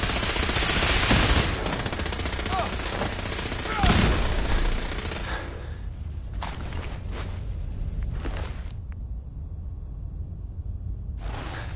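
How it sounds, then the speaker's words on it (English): Loud gunfire in the video game Fallout 4: dense, sustained automatic bursts fill the first half, then thinner scattered shots and short volleys follow, with brief voices mixed into the combat. "I'm hit! Taking fire!"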